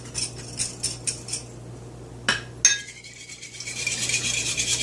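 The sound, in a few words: stirring marinade spices with a spoon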